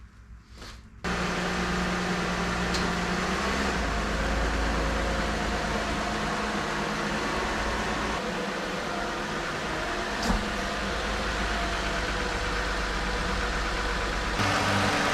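A car engine idling while it warms up, a steady low hum and drone that starts abruptly and holds constant and close for the rest of the time, with no talking.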